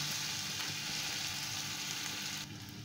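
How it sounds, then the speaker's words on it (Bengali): Stuffed capsicum frying in a shallow pan, giving a loud, dense, continuous sizzle up close that drops slightly near the end as the pan is stirred. "এটাকে দু মিনিট নাড়াচাড়া করে নেব ডিপ ফ্রাই হবে না"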